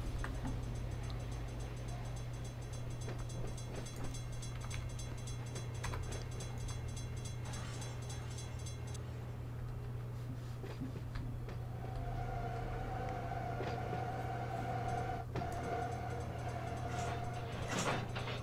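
Freight train in the Run 8 train simulator rolling with a constant low rumble and clattering wheels, metallic squeals and clanks joining later as the cars bunch up, with no talking.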